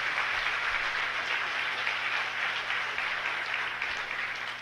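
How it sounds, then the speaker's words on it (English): Sustained audience applause fills the room, a dense, steady wash of many hands clapping at even loudness throughout, with no voices standing out. "he gets applause"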